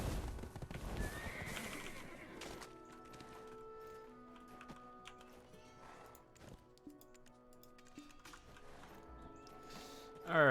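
A horse whinnies in the online game Black Desert Online, a strong neigh in the first seconds, then game sounds, chimes and faint clip-clop steps.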